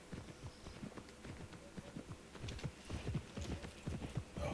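Rhythmic clip-clop of a horse's hooves in the Pippa Funnel Ranch Rescue video game, a steady trotting beat that grows a little louder and busier midway, with no voices over it.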